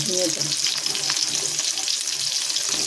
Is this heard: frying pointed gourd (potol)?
yes